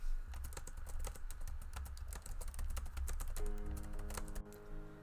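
Steady typing on a computer keyboard during a novel-writing session, with dense, fast clicking keystrokes up close and a brief pause near the end while a soft tone sounds underneath.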